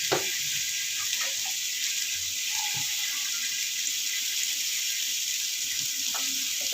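Water poured from a cup into a cooking pot on a stove while making ginataang papaya, a steady splashing hiss over faint clinks and a low background sizzle.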